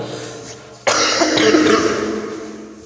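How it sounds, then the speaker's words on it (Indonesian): A single harsh cough bursts out close to the microphone after a quiet moment, followed by a rough, lingering breathy rasp. "mohon maaf masih agak batuk"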